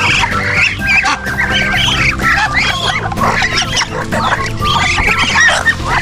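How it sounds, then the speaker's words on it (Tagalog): Small chickens in a backyard coop cluck and squawk continuously and loudly, many birds calling at once from close by. "Itong maliliit na manok."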